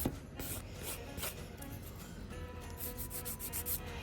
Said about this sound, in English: I'm just filing down, creating that bubble shaped